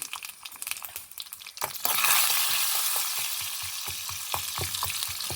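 Cumin, mustard seeds and crushed garlic hit hot ghee for a ridge gourd curd curry, a few faint taps, then a sudden loud hissing sizzle that settles into steady frying with light crackles.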